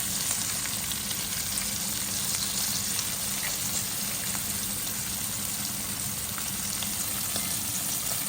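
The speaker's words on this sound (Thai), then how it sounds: "ยังทอดไม่เสร็จเลย" A steady, continuous sizzle of fermented fish (pla som) frying in hot oil, loud and close, with no voices.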